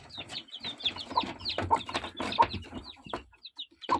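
Hens and small chicks cluck and peep in a busy, irregular chorus, close by, with overlapping calls and a few sharper chirps, no speech.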